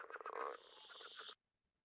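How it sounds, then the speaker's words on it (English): An Atlantic coastal leopard frog calls on the coastal plain, a loud, rapid chuckling croak of clustered pulses lasting just over a second before cutting off to silence. "This is the Atlantic coastal leopard frog."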